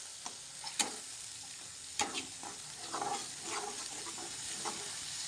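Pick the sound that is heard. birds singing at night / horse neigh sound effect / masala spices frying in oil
masala spices frying in oil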